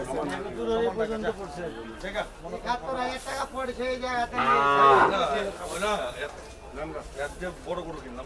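Cattle moo loudly and repeatedly, long drawn-out lows close by, with a busy crowd chattering around them at the Gabtoli cattle market in Dhaka, Bangladesh, before Eid sacrifice.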